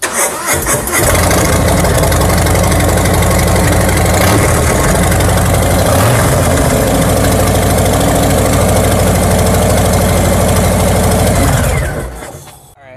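A motorcycle engine starts and settles into a loud, rough idle through its exhaust for several seconds before cutting off, close and throaty.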